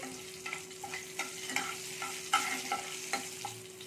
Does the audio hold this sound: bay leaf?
yes